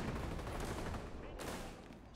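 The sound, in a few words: shotgun firing in a video game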